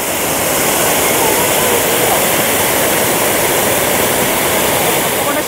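Gundichaghagi waterfall in Keonjhar after the monsoon, its water split into many streams, makes a loud, steady, close roar of rushing water with no break.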